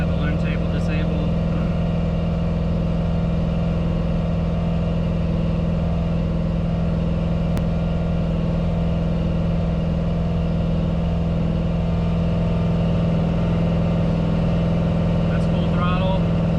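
A Ford F100 engine with Holley EFI held at full throttle on a dyno, a loud, steady, droning roar with a strong low hum that holds unchanged throughout, with a few faint chirps near the start and end.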